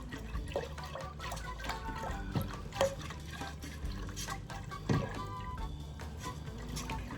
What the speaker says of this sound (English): And we're going to start stirring.